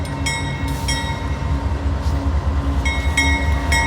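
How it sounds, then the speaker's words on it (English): Union Pacific intermodal stack train passing southbound on track 2 at Oakland Jackson Square, a close, loud rumbling roll with rhythmic wheel beats and repeated high ringing tones cutting in and out. "So here it is, Union Pacific Intermodal Stack Train heading southbound here on track 2, Oakland Jackson Square"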